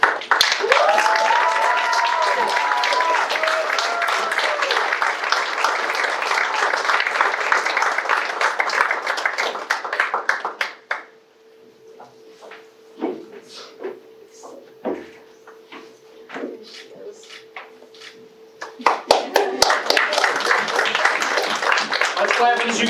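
Audience applause and cheering for a graduate walking across the stage at a virtual academy's Class of 2024 graduation ceremony, loud for about ten seconds, then a quieter stretch with scattered sounds, before clapping swells again near the end.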